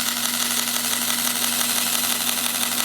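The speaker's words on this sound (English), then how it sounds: "I have a really large lid that I'm going to use and just eyeball it to draw an arc where I can cut this out on the bandsaw." A bandsaw cuts an arc through a wood board, giving a steady, loud motor hum with a constant whine and no pauses.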